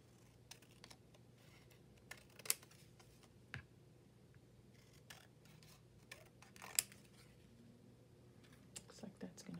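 Scissors trim a small paper craft tag with a series of faint, crisp snips and clicks, scattered irregularly over a quiet room background.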